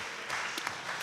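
An audience at a health care reform talk applauds, a brief, faint spatter of hand claps heard from a distance across about a second.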